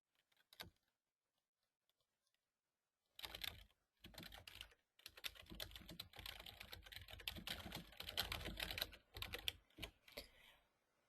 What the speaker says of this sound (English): we can type in new clause text